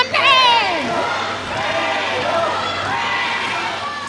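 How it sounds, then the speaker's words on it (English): A wrestling crowd at an IWA show roars and cheers for Randal, a loud, continuous swell of shouting voices with excited calls rising above the din throughout. "The crowd loves Randal."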